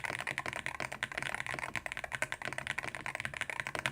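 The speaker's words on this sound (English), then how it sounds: "Like this is a Hall effect keyboard." Fast typing on a Hall effect mechanical keyboard produces a close, continuous stream of crisp key clacks with no pauses.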